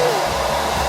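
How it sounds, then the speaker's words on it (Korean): A handheld hair dryer blows steadily on a styled women's hairdo, a loud, close, continuous whooshing roar with no pauses. "그러면 드라이기 해도 돼."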